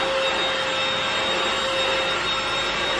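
A new small vacuum cleaner picks up cat litter indoors, a loud steady whine with a fixed tone that holds for the whole stretch, with no speech.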